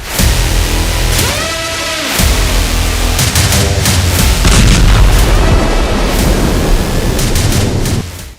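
Explosion from a Hezbollah strike on an Israeli Merkava tank in combat near the Lebanon border, a loud sustained boom with rumbling blast noise and several sharp bursts, filling the whole stretch with no talk.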